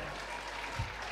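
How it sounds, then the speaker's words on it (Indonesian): Applause from the audience at a religious lecture gathering, a brief, steady wash of many hands clapping, somewhat distant and even throughout. "tepuk tangan buat kita semuanya"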